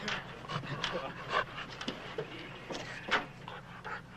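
Close by, a dog pants in quick breathy bursts with a few faint whimpers, while people talk quietly in the background.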